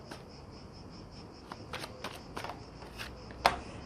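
Oracle cards are drawn from a deck and laid one over another, making soft papery slides and light flicks at close range, with a sharper snap near the end; quiet throughout.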